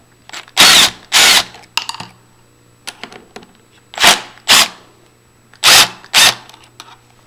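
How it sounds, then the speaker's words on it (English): A power drill runs in reverse to back screws out of a passage lever handle plate, giving four pairs of short, loud whirring bursts with small clicks and handling taps between them. "we're going to reverse these two screws at the top and the bottom"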